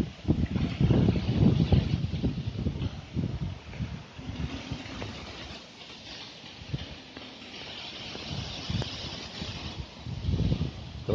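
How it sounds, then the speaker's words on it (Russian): Gusty wind buffeting outdoors over a flooded village, rising and falling in loud rumbling surges with a steady airy hiss underneath; no talking. "Сейчас еще немножко стих ветер."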